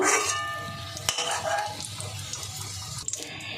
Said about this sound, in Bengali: আলুটা ভাজা হয়ে গেছে, নামিয়ে নেব।